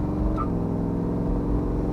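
A 1969 Chevrolet Camaro engine pulls hard while accelerating in heavy traffic alongside a semi truck, a steady loud rumble with dense low harmonics running throughout.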